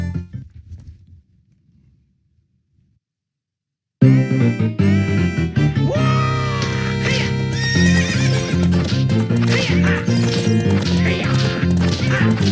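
Horse sounds from the video game The Legend of Zelda: Ocarina of Time 3D, a whinny and galloping hooves set against loud, continuous game music after a few seconds of near silence.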